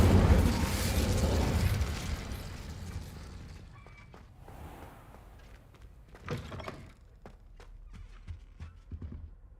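Incendio fire spell cast in Hogwarts Legacy, a loud whooshing burst of flame at the start that fades, followed by scattered clicks and knocks from the game scene.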